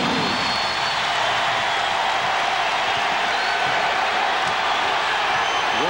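Arena crowd at a 1994 NBA playoff deciding game between the Nuggets and Sonics in Seattle, a steady loud roar of fans on their feet cheering, continuous and dense throughout.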